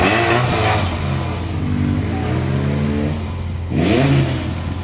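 A vintage Ferrari in Würzburg revs while parked in neutral: a loud, steady engine drone rises into a sharp rev near the end, close by, with no one speaking.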